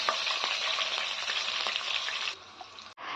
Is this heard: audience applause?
no